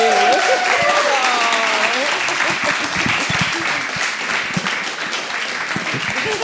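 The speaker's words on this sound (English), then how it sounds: "So let's have a round of applause for Colleen." Audience applause at the close of a talk with a music producer: a dense, steady wash of clapping held for the whole stretch, with a few whoops and voices rising over it early on.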